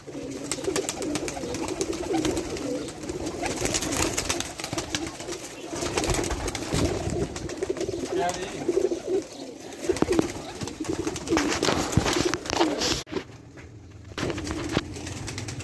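Pigeons kept on a rooftop in Jhelum city coo low and repeatedly amid breezy outdoor noise and scattered clatter, a steady close flock sound with no voices.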